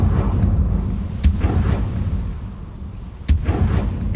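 Confringo fire spell blast in the video game Hogwarts Legacy: two sharp bursts about two seconds apart over a steady low rumble, with no talking.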